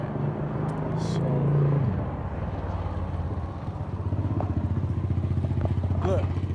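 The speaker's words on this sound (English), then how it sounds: "Shorty on a motorcycle." Motorcycle riding past on a street in Los Algodones, Mexico, its engine rising to a loud close rumble and then dropping away, with wind buffeting the microphone and someone talking over it.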